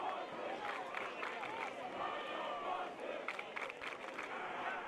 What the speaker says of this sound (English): So the crowd on their feet